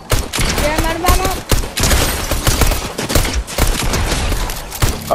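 Rapid bursts of video-game gunfire from Fortnite play on PS5, loud and dense throughout, with voices talking over the shots.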